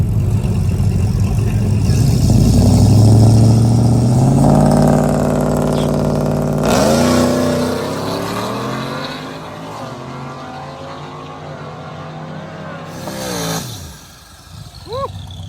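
A Ford F-150 pickup on four slicks revs hard at a drag racing event, a loud rising and falling engine roar with turbo whine, then the note drops away and fades toward the end.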